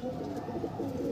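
Madras pigeon cooing steadily in a loft, a low continuous murmur of coos close by with no talk.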